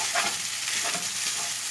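Topokki fries and gets stirred in a pan, a steady close sizzle with soft scraping swishes of the stirring utensil repeating every half second or so.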